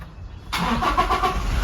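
A 2017 Toyota Fortuner 2.4V engine cranks and catches, then settles into a smooth, steady idle close by; no voices.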